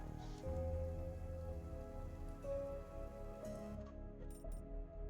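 Steady rain falls in the video game Sovereign Syndicate, a continuous soft hiss running under a low, sustained musical score throughout.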